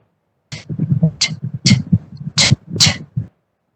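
A voice imitates a tennis ball striking a racket with a series of short, crisp 'T' consonant bursts, about five distinct clicks spaced over three seconds, close and clear in a quiet room.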